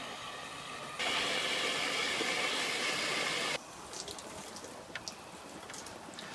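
Buckets of water are poured by hand into a siphon assembly, giving a loud, steady rushing splash for a few seconds that then stops, followed by quieter trickles and drips.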